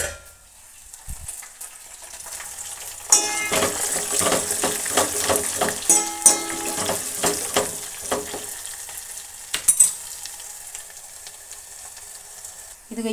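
Curry leaves and spices for a tempering hit hot oil in a pan, bursting into loud crackling, spitting sizzle that fades and flares again.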